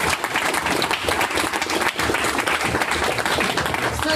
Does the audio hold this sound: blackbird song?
no